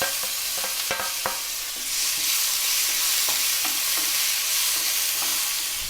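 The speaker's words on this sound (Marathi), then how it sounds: "आणि हो कांदो, बारीक कांदो घेतलेला आहे, वायच परतूया. आता ढकलतोय एक टॅमॅटो." Chopped onion and tomato fry in a pan with a steady, loud sizzle, while a spatula taps and scrapes through it in irregular strokes, close up.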